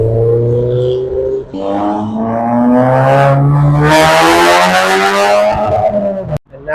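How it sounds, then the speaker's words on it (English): A Suzuki K car and an MG accelerate past at a Japanese car meet, engines climbing through the gears in a loud, close rising drone that peaks in a harsh roar as they pass, then cuts off abruptly. "What can the Suzuki K car and the MG do? We'll find out when the traffic passes."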